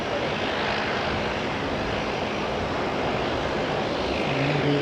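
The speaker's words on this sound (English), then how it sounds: "he's just making way for this Dreamliner to go past" A Boeing 787 Dreamliner taxis past on an Auckland Airport taxiway, a continuous low engine rumble holding steady and fairly close throughout, with no voices.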